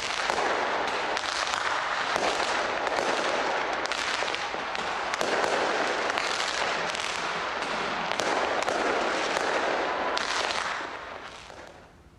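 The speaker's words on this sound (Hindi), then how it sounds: "लोगों ने न्यूजीलैंड के स्काई टावर पर आतिशबाजी के साथ नए साल का स्वागत किया" New Year fireworks burst over Sky Tower in New Zealand, a dense, continuous barrage of crackling pops and booms that stays loud and steady for about ten seconds before fading at the end.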